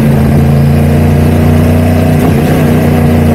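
A Yamaha R1 motorcycle engine captured through an Insta360 One R camera's microphone, a dense, muffled, continuous rumble with a low steady drone and slight revving, loud and close throughout, with no speech.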